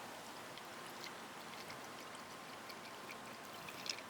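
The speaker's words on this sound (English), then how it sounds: "Just pour the fernet." Fernet is poured into a cup of ice as a faint, steady trickle at close range, quiet against a soft outdoor background.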